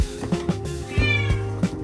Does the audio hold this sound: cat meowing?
yes